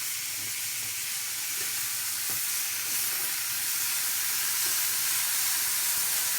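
Vegetables sizzle steadily on a grill, a dense, even hiss running alone and close throughout.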